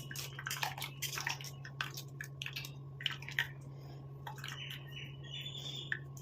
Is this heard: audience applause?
no